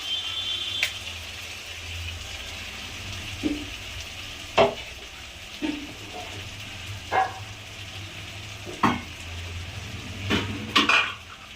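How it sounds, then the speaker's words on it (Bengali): Onions and a ginger, garlic, chilli and tomato paste frying in a pan under a low, steady hiss, broken by repeated clinks and scrapes of a spoon against the pan. "লাল করে পেঁয়াজগুলো ভেজে নেব মশলাটা দিয়ে দিলাম"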